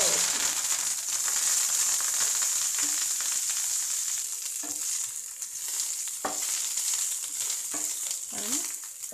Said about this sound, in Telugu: ఆయిల్ కొద్దిగా హీట్ అవ్వగానే మనం కొత్తిమీర వేసుకుందాం.